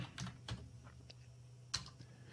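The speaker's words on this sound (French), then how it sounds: "Si je reviens maintenant dans GetSap et que je tape NeoFetch" Light keystrokes on a computer keyboard, a short irregular run of soft taps with one sharper press near the end, close but quiet against a faint room hum.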